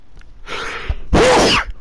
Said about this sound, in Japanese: あ、ごめんなさい、くしゃみ出た